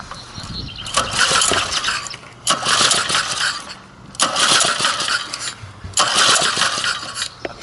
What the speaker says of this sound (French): Alors, on va mettre un peu de starter parce que comme il n'a pas démarré depuis longtemps.